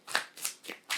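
Tarot cards shuffled and drawn by hand, three or four quick papery riffling bursts in close succession, near and fairly quiet, with no talking.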